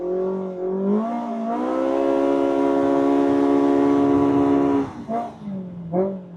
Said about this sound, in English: The throttle response and the sound is just